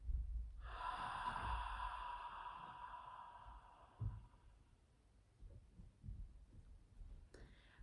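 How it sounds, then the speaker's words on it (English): A deep breath is drawn in sharply and released slowly, a close, breathy rush lasting a few seconds and then tapering into quiet, with soft scattered movement noises afterward. "take a deep breath. And slowly release the breath"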